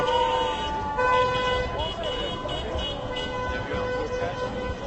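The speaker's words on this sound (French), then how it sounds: "Avec de très très nombreux klaxons" Taxi car horns honk repeatedly amid busy street noise and a crowd at Place de la République in Paris, with several overlapping toots rising and falling over the din.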